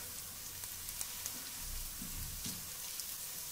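Spices and fresh ginger sizzling in hot oil in a frying pan, a steady bright crackling hiss with occasional soft stirring thumps, heard alone without voices.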